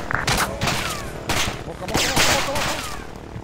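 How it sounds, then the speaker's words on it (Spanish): Gunfire in the military shooter game Arma 3 rattles in repeated bursts of close, loud shots, a fusillade of overlapping rounds with faint voices mixed in. "Disparos por la puerta del frente del norte"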